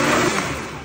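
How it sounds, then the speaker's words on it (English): A blender whirs loud and close, churning roasted tomatillos, onion, chile, garlic, chicken bouillon and a little water into spicy Mexican salsa; a steady, dense motor roar with no talk. "Add a little bit of water, and we blend."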